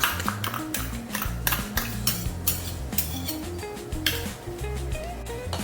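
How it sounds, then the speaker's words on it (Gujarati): A spoon scrapes and clinks against a pan as spice paste is stirred into sautéed onions with a pinch of asafoetida, a rapid run of close metallic taps and scrapes with no voices. "હવે આપણે એકદમ બરોબર મિક્સ કરી લેશું"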